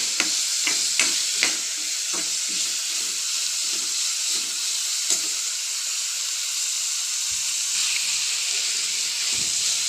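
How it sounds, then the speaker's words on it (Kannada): Onion and tomato frying in a pan for a cauliflower curry, giving a steady, close sizzle throughout with a few sharp stirring clicks early on and no talk. "ಇಷ್ಟು ಹಾಕಿ ಸ್ವಲ್ಪ ಚೆನ್ನಾಗಿ ಒಂದು 2-3 ಮಿನಿಟ್ಸು ಫ್ರೈ ಆಗಲಿ."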